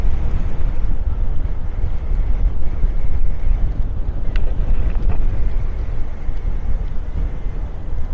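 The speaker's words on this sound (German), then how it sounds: "So, wir haben hier richtig Wind." Strong wind at Maspalomas, Gran Canaria roars steadily against the microphone, a loud continuous rumble with no letup and no voices.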